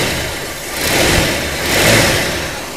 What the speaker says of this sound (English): Talk about a smooth running, ultra quiet engine.